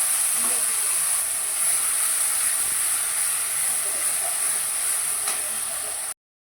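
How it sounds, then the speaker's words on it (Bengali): Cumin seeds and ground spices dropped into hot oil left from frying potatoes for a katla fish kalia give a loud, steady, close hiss that holds for about six seconds and then cuts off abruptly. "এর মধ্যে আমি দিয়ে দিচ্ছি জিরে ফোড়ন। তো এবারে মশলাটা দিয়ে দিচ্ছি।"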